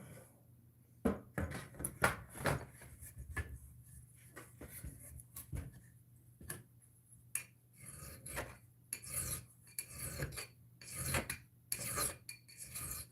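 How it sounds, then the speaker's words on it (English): A hand file rasps along the beveled edge of a cellphone frame in short, scraping strokes, quiet and close, with uneven pauses between bursts and no talking. "you can hear here and here and there where the file is getting a bite"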